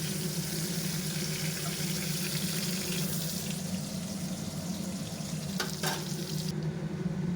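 Sliced ridge gourd fries in hot oil in a home kitchen, a steady crackling sizzle with soft stirring scrapes and a brief clatter near the end as the pieces are lifted out.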